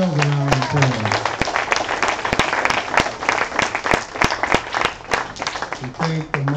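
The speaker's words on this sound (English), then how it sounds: "give yourselves a round of applause" Audience applause at a Hebrew cultural center holy convocation, scattered sharp claps from a modest crowd mixed with a voice talking, with a sustained vocal tone at the start and end.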